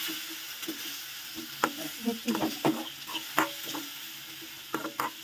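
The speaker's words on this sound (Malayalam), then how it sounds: "ചൂടായ നെയ്യിലേക്ക് നമുക്ക് പഴം ചേർക്കാം" Banana pieces sizzling in hot ghee in a pan while being stirred, a soft continuous frying hiss broken by repeated spoon scrapes and taps, close and moderately loud.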